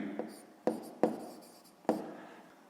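A pen or pencil writes out a sixth-grade maths exercise on paper, giving four or five sharp taps and scratches in an uneven rhythm, close and clear with no talking.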